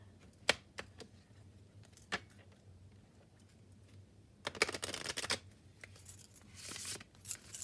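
Tarot cards are shuffled hard on a table in a few quick riffling bursts, with sharp taps and slaps between them, close and fairly quiet.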